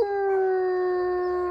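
A wolfdog at a wolfdog farm in New Jersey lets out one long, steady, close howl that holds an even pitch from start to finish, with no talking.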